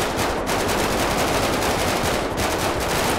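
Sustained, dense automatic gunfire in the game GTA 5 during a roleplay shootout, loud and continuous with rapid overlapping bursts throughout.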